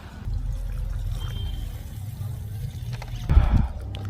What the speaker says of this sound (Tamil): கறி வேகிறதுக்கு லைட்டாக தண்ணி சேர்த்த போகிறோம்